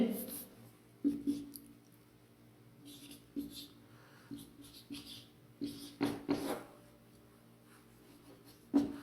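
Answer options being written during a Hindi spelling lesson, soft intermittent scratching strokes of writing, fairly faint and close, with quiet pauses between.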